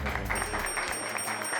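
A short burst of dense, rhythmic hand clapping from a group, loud and continuous, heard in a Hindi comedy series episode.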